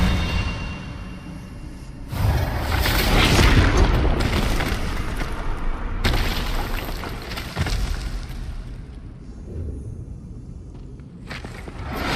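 Expelliarmus spell cast in the Hogwarts Legacy video game: a loud booming magical blast with a rumbling burst, followed by further heavy impacts and crackling energy that rise and fall over several seconds.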